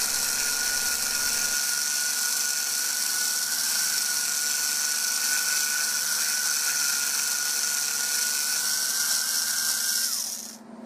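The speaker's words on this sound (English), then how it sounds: "taking a hobby knife and very lightly shave the wheel as it spins" A hobby knife lightly shaves a spinning rear wheel of a model slot car, giving a steady, loud high-pitched motor whine with a continuous scraping hiss that runs the whole time and then winds down at the end.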